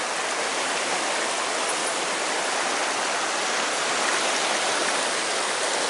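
Bankfull Rio Blanco river flowing high after days of flooding, a steady dense rush of water that holds evenly loud and close throughout with no voices.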